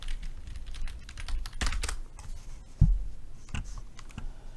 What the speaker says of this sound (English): you're probably gonna hear like me typing and clicking and all that good stuff